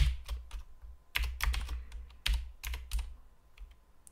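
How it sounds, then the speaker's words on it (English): Fingers type on a computer keyboard in short bursts of sharp clicks separated by brief pauses, close and clear with no talking. "I will just type some stuff here and then I will explain what's going on."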